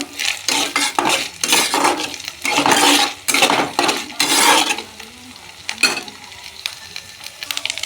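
Spice paste is fried down in a pan for a vegetarian papaya dalna. Rhythmic bursts of sizzling mix with the scrape and clink of a spatula against the pan, close and loud, easing off toward the end.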